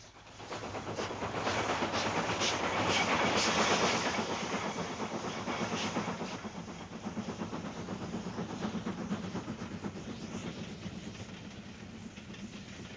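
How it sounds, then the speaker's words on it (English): A British Rail steam train from 1968 rumbles past with a steady clickety-clack of wheels and a hissing, chuffing roar that swells and then eases off, with no voices. "the last official steam train to be run by British Rail on the 11th of August 1968"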